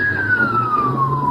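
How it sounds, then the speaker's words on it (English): Police car siren from a Paradise police officer's vehicle racing to a house, one long wailing tone sliding steadily downward, loud and continuous over low road rumble, no speech. "The sound of the police siren was recorded by a Paradise police officer racing to the house."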